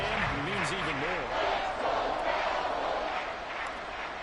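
A large football stadium crowd roars steadily through a playoff game, with the noise filling the space throughout while a commentator talks over it.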